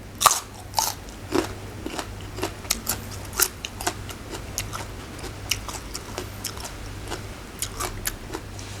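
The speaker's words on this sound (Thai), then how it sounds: "สามสิบกินกลึกกลึกเลย" Crunchy raw beef omasum tripe being chewed close up, a steady run of crisp, wet crunching bites over about nine seconds with a faint low hum underneath and no talking.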